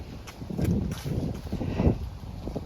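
Wind gusts across an exposed hilltop on a fall day, buffeting the microphone in uneven low rushes that swell and fade over a couple of seconds.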